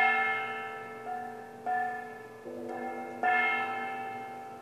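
A kkwaenggwari, a small Korean brass gong, is struck several times in a quiet room, each hit ringing out with long, sustained bell-like tones that overlap and slowly decay, evoking a Buddhist temple bell.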